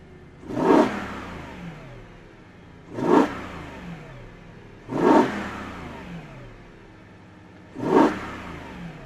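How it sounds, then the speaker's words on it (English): A BMW E92 M3 fitted with an Eventuri carbon intake is revved to about 3000 rpm four times in a row, each a sharp, close burst that falls back to a low idle in between. "Let's give it about 3000 revs."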